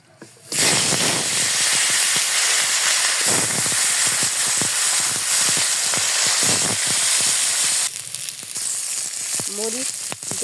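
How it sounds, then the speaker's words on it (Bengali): Brick fish pieces hit hot oil in a home kitchen, setting off a loud, continuous close sizzle with popping crackles that runs for several seconds and eases slightly near the end. "তেল গরম হয়ে গেছে, এখন মাছ দিয়ে দেবো।"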